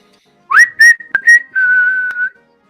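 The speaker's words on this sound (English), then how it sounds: "You get the whistle tonight." A referee-style whistle sounds during a Yankees at Orioles baseball broadcast, several short bright tones followed by one long sustained blast, loud and close with no talk over it.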